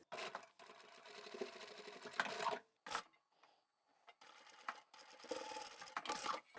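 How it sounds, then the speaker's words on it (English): A sewing machine stitches straight over two existing seams, joining the lining and outer fabric of a reversible boho sling bag, running in several close, steady bursts separated by brief pauses. "So all we're doing here is sewing straight over the 2 seams that we've already sewn"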